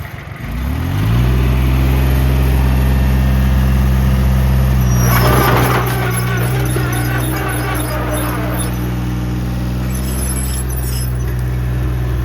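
A tractor engine starts and settles into a loud, steady low rumble near the edge of a mountain cliff, with a sharp hiss and clatter partway through and a faint voice underneath.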